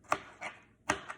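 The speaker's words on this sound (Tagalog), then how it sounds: "Yung ganito na siya, hiwa-hiwain mo." A knife chops food on a cutting board in a home kitchen, three sharp, close strikes with brief pauses between them, loud and alone without talk.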